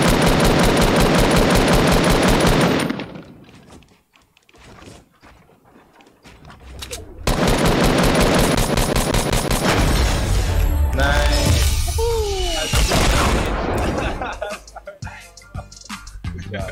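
Automatic gunfire and mechanical weapon clatter from a Fortnite match, loud dense bursts at the start, a quieter gap, then another sustained stretch of shooting with game effects layered in.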